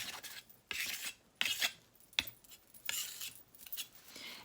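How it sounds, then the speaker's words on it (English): A damp cloth wiped over a Carrara marble placemat in short, separate swipes, each a soft, close rasping rub with brief quiet gaps between strokes. "Got a damp cloth over here that I'm going to wipe it off with."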